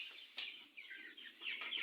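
Chickens on a poultry farm cluck and squawk up close in a quick run of short, bright calls, with no talk over them.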